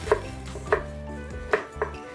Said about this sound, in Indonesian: Intinya saya motongnya seperti korek api ya.